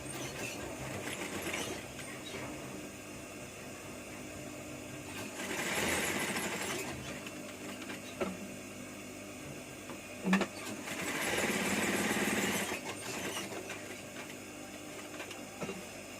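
Sewing machine stitching a straight seam through a two-layer cloth face mask, quiet, in two short bursts of rapid whirring separated by pauses with faint handling noises.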